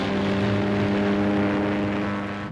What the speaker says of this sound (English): The first wave of bombers and their fighter escorts was readied for takeoff.